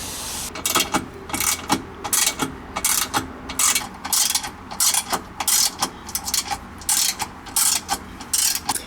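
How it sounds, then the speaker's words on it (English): A hand ratchet tightens 10mm bolts on a Hellcat differential brace, clicking in quick, even bursts of strokes with short pauses between them, close and crisp, with no one talking. "I've got these two 10mm bolts tightened up"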